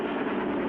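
A train in the Clutch Cargo cartoon rumbles steadily along the tracks, a dense continuous roar with no voices, heard briefly at moderate loudness.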